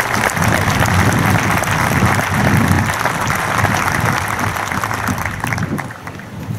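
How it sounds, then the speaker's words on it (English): A round of applause from a high school graduation crowd, loud continuous clapping with murmuring underneath, holding steady before thinning near the end. "Let's give them a round of applause."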